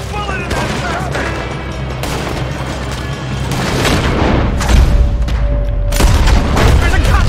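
A loud gunfight in Red Dead Redemption 2 during a robbery shootout, with heavy booming shots and scattered fire building in intensity over several seconds under background game noise.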